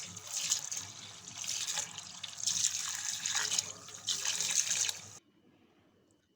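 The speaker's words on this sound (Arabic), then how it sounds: "نغسله وننزل منه المية الصفرة دي خالص لحد ما المية تروق" Wheat grains for belila are rinsed under a running tap, with steady splashing and trickling water for about five seconds before it stops abruptly.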